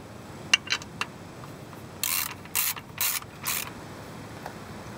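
Ratchet wrench tightening transfer case bolts, heard as a few quick clicks followed by four louder bursts of rapid ratcheting, close by with no talk.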